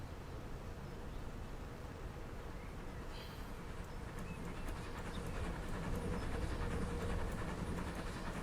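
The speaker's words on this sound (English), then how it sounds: "You guys better get on the platform now. Here comes the train." A passenger train pulls into a station platform in Transport Fever 2, its steady low rumble and rolling rail noise holding a constant, moderately loud level throughout, with faint clatter above.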